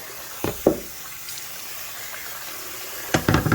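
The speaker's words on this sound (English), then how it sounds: "At this point, myself, I like to add the water right now." Water poured into a pot of washed rice splashes in short bursts, a couple near the start and a louder pour near the end, with quiet gaps between.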